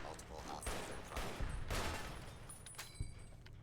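Automated security turrets in Fallout New Vegas fire sustained, dense bursts of rapid gunfire, a loud continuous fusillade with sharp individual shots punching through.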